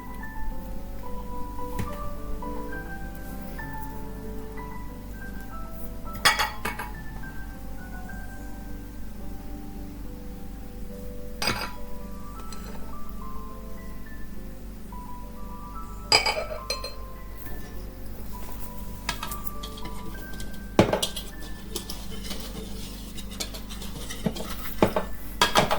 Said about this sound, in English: in a separate bowl, I combine my dry ingredients.